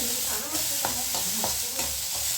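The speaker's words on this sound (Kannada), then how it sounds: "ಒಂದು ಟೊಮೊಟೊ, ಇದಿಷ್ಟನ್ನು ಚೆನ್ನಾಗಿ ಹುರಿಬೇಕು." Tomato and spices fry in a pan for mutton curry, a continuous close sizzle with several rhythmic scrapes of a spoon stirring through the mixture.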